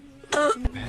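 An elderly man coughs in a short comedy sketch, one harsh close cough with a throaty rasp, a second quick hack following.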